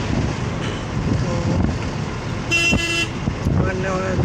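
A truck horn gives one loud, close blast that lasts about half a second, with a couple of shorter toots after it, over engine and wind rumble outside a Swaminarayan temple at Jetalpur.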